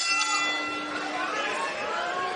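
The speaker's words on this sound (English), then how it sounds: "The bell and round 4" A boxing ring bell signals the start of a round at a professional bout, a sustained metallic ring over arena crowd noise and commentary.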